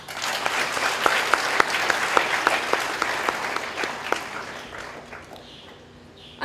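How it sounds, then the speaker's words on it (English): An indoor audience at a school graduation ceremony breaks into sustained applause, clapping dense and even throughout before tapering off near the end, with faint voices underneath. "Everyone, an applause for Swamiji."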